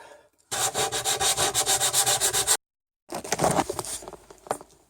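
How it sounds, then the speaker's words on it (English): Steady rhythmic hand sanding, rapid back-and-forth strokes rubbing wood for a couple of seconds, a short pause, then rougher scraping sanding strokes resume up close. "So when I'm sanding"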